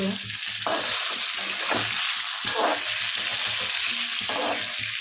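Okra (bhindi) fries in a pan with a steady, bright sizzle, while a utensil stirs it in several short scraping bursts.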